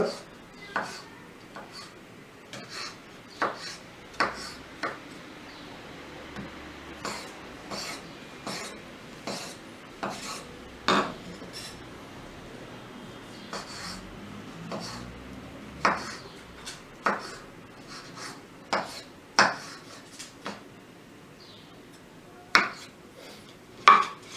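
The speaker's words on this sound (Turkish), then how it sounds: "Küp küp doğruyorum" A knife dices vegetables into cubes on a cutting board for an okra omelette, giving a long series of crisp, irregular chopping taps close by against a quiet background.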